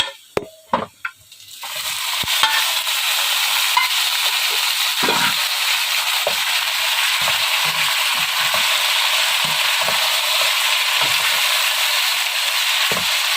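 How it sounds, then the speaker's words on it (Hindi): Mutton frying with golden onions in a pan for Peshawari namkeen gosht, a loud steady sizzle that starts after a few clanks and stirring knocks, with occasional utensil scrapes throughout. "इसे अच्छे से मिक्स कर लेते हैं और प्याज के साथ गोश्त को अच्छी तरह फ्राई कर लेते हैं।"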